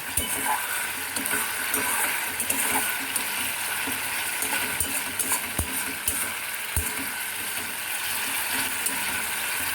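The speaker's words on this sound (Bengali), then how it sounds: "মশলাটাকে খুব ভালো করে ভাজতে হবে যাতে তেলটা এখান থেকে বেরিয়ে আসে" Spice paste fries in oil for egg korma with a dense, continuous sizzle. Scraping stirs and scattered clinks sound throughout, and there is no talk.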